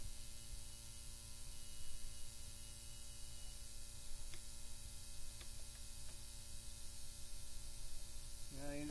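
A texture sprayer hisses steadily while spraying popcorn ceiling texture, a continuous moderate spray noise that runs through the whole stretch with no pauses.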